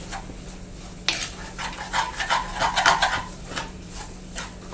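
Spice powder, onion and tomato stirred together in hot oil for a Kerala-style fish curry, a close scraping of spoon against the pan over a soft sizzle, with irregular strokes that grow busier midway, no talk.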